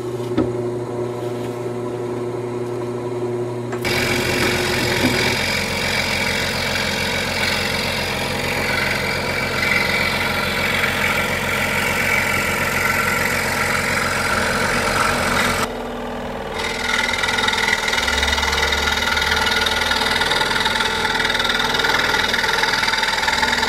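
A power tool whines continuously while drilling holes in and cutting out wooden letters for a kids' craft project. A quieter motor hum comes first, then louder steady cutting that pauses briefly before resuming, with no voices.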